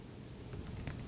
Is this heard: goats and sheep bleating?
no